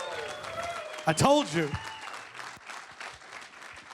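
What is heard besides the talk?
audience applause for Fletcher Cox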